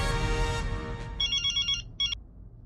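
A telephone rings in a repeated electronic ringtone pattern, two bursts clearly audible after a brief stretch of indoor background noise, the call ringing out alone with no voices over it.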